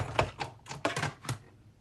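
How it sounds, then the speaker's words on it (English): A die cutting machine cranks a card through in a handful of sharp mechanical clacks and thunks, uneven in rhythm, close up and moderately loud. "I'm going to die cut this one"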